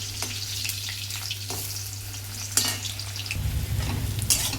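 Onions and potatoes frying in hot oil in a pan, with a steady close sizzle and several scraping stirs, the frying growing louder and fuller toward the end.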